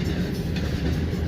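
A heavy freight train hauling potash fertilizer rolls past close by, a loud, continuous rumble of wheels and rail noise with faint rhythmic clatter and no voices.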